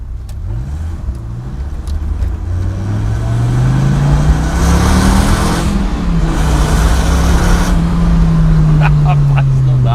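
A Dodge Viper RT10's engine drones steadily while driving, its pitch rising and falling with the throttle through the gears, loud and close in the cabin, with someone talking over it.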